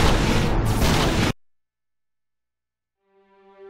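A loud, dense explosion blast in the Armored Core V mech combat game fills the opening second and a bit, then cuts abruptly to silence before a faint tonal hum rises near the end.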